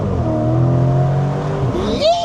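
Lamborghini Temerario engine revving loudly up close, a sustained throaty drone with a sharp rising pitch sweep and high whine near the end.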